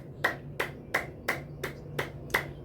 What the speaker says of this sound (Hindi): तो ये हुई ताली